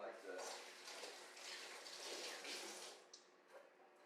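A tomato is washed under a running kitchen tap, giving a steady broadband wash of water that lasts throughout with small splashy changes, near and moderately loud, with no speech over it.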